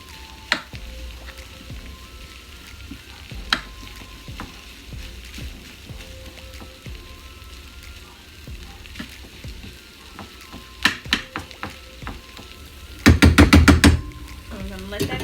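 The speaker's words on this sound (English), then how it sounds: "So I'm gonna let that cook, let it simmer. That corned beef hash in there." Corned beef hash frying in a pan gives a low, steady sizzle under scattered scrapes and clatters, then a louder burst of rapid clicking and bubbling near the end.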